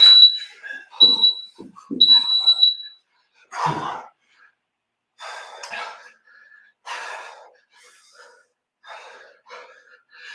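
A loud workout interval timer gives three sharp, piercing beeps in quick succession, then heavy breathing and a person speaking take over.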